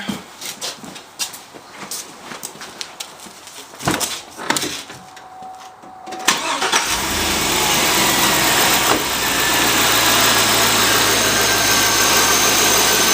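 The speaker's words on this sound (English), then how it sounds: "the first thing we have to do is start the vehicle" A car engine is started with a sharp crank at about six seconds, then settles into a steady, loud idle that runs to the end, after earlier clicks and bumps of handling around the vehicle.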